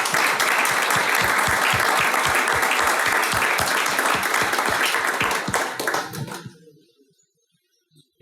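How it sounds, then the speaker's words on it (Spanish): Audience applauding together at a church conference session, loud and sustained clapping for about six seconds before it quickly fades into silence. "creo que es un buen momento para dar un aplauso"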